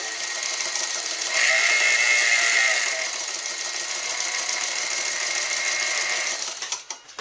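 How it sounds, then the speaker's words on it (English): A vintage Japanese-built Montgomery Wards sewing machine running a straight stitch, a steady close whirring motor hum that holds for several seconds, then slows and stops near the end. "Now let's just try a basic straight stitch."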